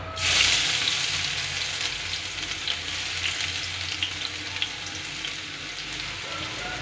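Onions sizzle and crackle steadily in a hot pan of oil while cooking a drumstick and egg curry, with a loud hiss at the start that settles into a constant fry, no voices.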